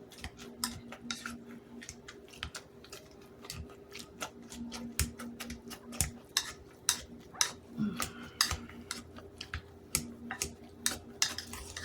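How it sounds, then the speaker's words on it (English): Potatoes mashed in a pot with a stick of butter, a steady run of soft, rhythmic metallic clacks and scrapes, close and fairly quiet, with no talking. "start mashing my potatoes, because that doesn't take very long either"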